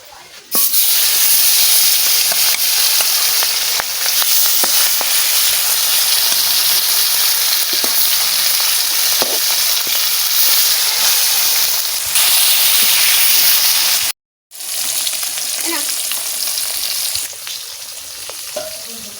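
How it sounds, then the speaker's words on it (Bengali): Rohu fish head spitting in hot oil in the pan, a loud unbroken hiss and crackle heard close up, cut by a brief moment of silence before the frying resumes. "এটা প্রথমে তেলে ভাজা করবো"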